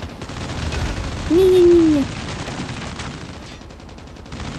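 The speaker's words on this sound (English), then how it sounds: "Ooh, I unlocked minigun. Let's use this." Minigun fire in a Call of Duty match, a dense continuous burst of rapid gunfire lasting under a second amid other game noise, with a brief tonal whistle over it.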